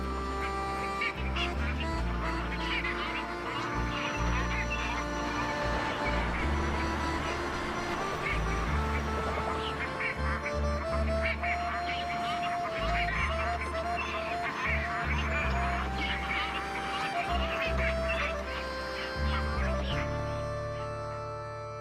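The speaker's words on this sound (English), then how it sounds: "masses of pygmy cormorants fly upriver from their feeding grounds to the safety of the city center, where they can rest in the tall trees" A large flock of pygmy cormorants flying upriver to roost in tall city-centre trees along the Danube in freezing weather, giving a continuous dense chorus of honking, quacking calls throughout, with a music-like tonal bed underneath.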